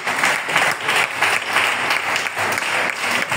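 A church congregation claps steadily through a worship service, a dense, even wash of many hands close by and fairly loud, with no speech over it.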